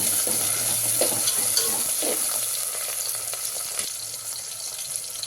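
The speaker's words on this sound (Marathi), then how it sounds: "टोमॅटो हे छान आपण परतून घेऊया" Chopped onion and tomato sautéing in a hot pan, a steady close sizzle with light stirring scrapes throughout, no voices.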